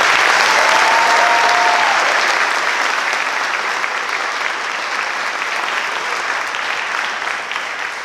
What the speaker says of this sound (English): Please join me in giving these students another round of applause.